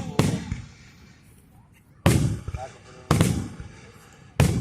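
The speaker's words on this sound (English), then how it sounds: "I'm just trying to look at the fireworks in real life." Fireworks at a show bursting as four loud, sharp booms spaced about a second apart, each with a crackling tail.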